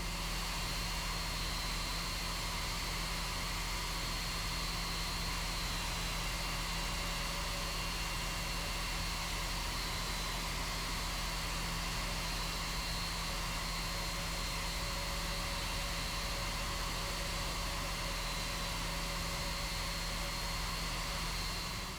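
Flight Factor Boeing 767 engines in the X-Plane 11 simulator while taxiing, a steady low drone with a constant tonal whine, unchanging and moderately quiet for the whole stretch.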